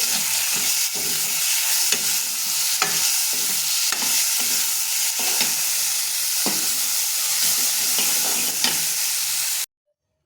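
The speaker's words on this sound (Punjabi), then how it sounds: "ਇਧਰ ਪਿਆਜ਼ ਭੁੱਜ ਰਹੇ ਆ" Onions sizzling steadily as they fry in a pan, with repeated spatula scrapes and stirring clinks throughout, close and continuous, before cutting to silence at the end.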